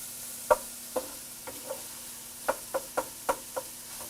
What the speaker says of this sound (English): now that the sausage is mostly browned